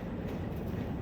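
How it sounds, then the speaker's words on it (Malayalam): A train rumbles steadily over a river bridge across the Bharathapuzha, a continuous low rolling roar that stays loud and even throughout with no voices. "ട്രെയിൻ പോണക്ക."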